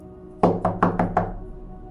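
Five quick knocks on a door, close and clear, in a fast even rhythm with silence around them.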